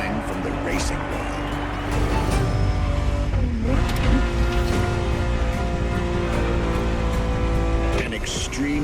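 A Ferrari supercar engine in The Crew Motorfest racing game drones and revs loudly up close, surging and easing back under a steady stretch of spoken narration.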